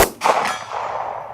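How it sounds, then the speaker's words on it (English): A 9mm bullet striking a steel target at 100 yards gives a loud metallic clang, followed by a second ringing hit that decays into a fading ding. "Let me put a few more shots on there just to make sure we got some on the target."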